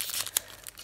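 A Pokémon Fates Collide booster pack is torn open: brief crinkling of foil wrapper with one sharp rip, close and fairly loud, lasting under a second.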